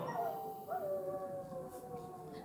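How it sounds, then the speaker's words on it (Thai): A dog howls in long, wavering, drawn-out tones, fairly faint and somewhat distant, with a soft background hum and no speech. "หมาหอนทำไมคะ"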